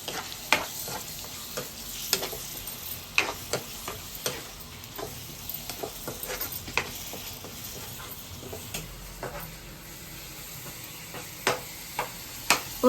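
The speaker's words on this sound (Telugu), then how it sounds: "ఇదంతా మొత్తం పేస్ట్ అంతా బాగా వేగుతుంది ఆయిల్లోని." Onion, ginger and garlic paste with tomato puree fries in oil for a paneer curry, giving a steady close sizzle broken by sharp scraping clicks of stirring, with no voices.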